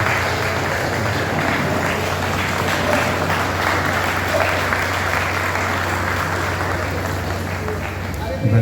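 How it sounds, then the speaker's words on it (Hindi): Audience applause welcoming a midday-meal program official at a district education ceremony, steady dense clapping from a crowd with a low hum underneath, sustained at an even level throughout. "तालियों से स्वागत करें।"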